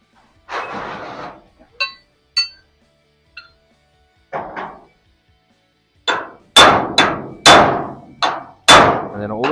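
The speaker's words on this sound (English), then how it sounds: "we take a flat bar like this" A hammer strikes a flat bar held against the lip of a classic car's roof skin, several ringing metallic clangs in irregular bursts, the last few loud and close with long bright decays, with brief scraping pauses between.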